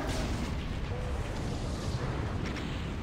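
A nuclear missile going off in a Doom 2 mod, a loud rumbling blast that keeps roaring for about three seconds, with a faint voice beneath it.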